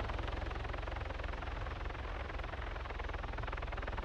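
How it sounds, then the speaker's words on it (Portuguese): A steady, loud mechanical whir with a deep rotor-like rumble that continues unbroken throughout, from two helicopters hovering close by in the video game Arma 3. "Nossa, dois helicópteros aqui,"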